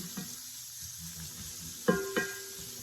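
Shrimp spread out in a hot frying pan sizzle with a steady, faint background hiss, punctuated near the end by a couple of brief clinks and scrapes.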